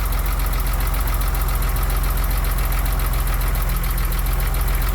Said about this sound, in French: Et voilà le 6 cylindres 2 litres 5.